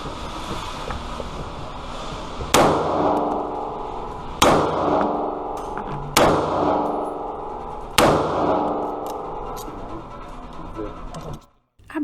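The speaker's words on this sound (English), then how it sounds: "this is my first time shooting my own pistol" Four loud, sharp gunshots from a pink SIG AR-15 pistol at an outdoor gun range, evenly spaced roughly two seconds apart, each with a ringing decay over steady wind noise.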